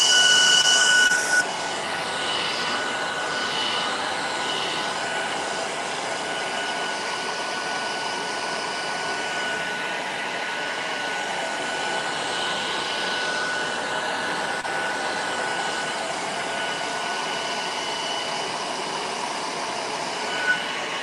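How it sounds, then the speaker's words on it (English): A hairdryer blowing to dry paint on a live painting, a continuous loud whooshing roar with a steady tone, running alone for about twenty seconds. "I'm actually going to just do a very quick hairdryer on it just to speed that up"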